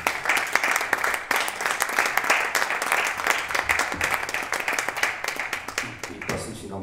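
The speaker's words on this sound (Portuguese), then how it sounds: "Peço-vos um aplauso para Jorge Silva Melo." An audience at a film retrospective talk applauds, dense and sustained clapping from many hands for several seconds before it thins out near the end.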